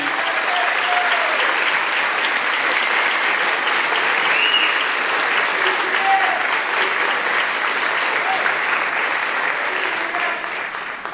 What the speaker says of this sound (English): Let's give them another big round of applause, please.